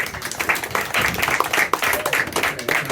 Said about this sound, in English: Y'all keep clapping a little bit longer.